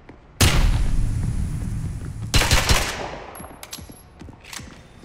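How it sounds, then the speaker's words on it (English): A flash grenade is thrown in the shooter game Spectre Divide, giving a sudden loud bang with a sustained burst of noise that decays, then a second sharp blast followed by scattered smaller impacts. "Throwing flash grenade."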